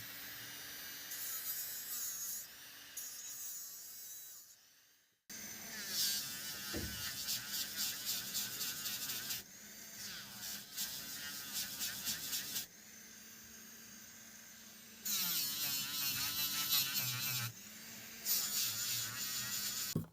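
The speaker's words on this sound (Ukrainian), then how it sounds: "Це фрезерний апарат такий." A STRONG electric nail drill micromotor whines at high pitch in bursts, starting and stopping several times, with the speed shifting between runs; no one speaks.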